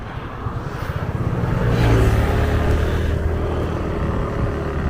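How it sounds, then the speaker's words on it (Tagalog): A rented motorbike riding along a road near the sea in Mui Ne: a steady engine drone mixed with rushing wind noise, close and continuous, swelling slightly midway. "Ito pa rin yung nirent nating motor kahapon."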